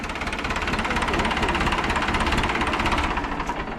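A 1981 HMT 5911 vintage diesel tractor engine runs steadily up close, a loud, continuous rough chugging with a fast knocking pulse throughout.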